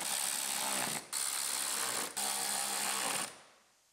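A power tool drives screws through brackets into the wheel liner of a 2017 GMC Terrain, three loud buzzing bursts with short pauses between them, close up and ending abruptly.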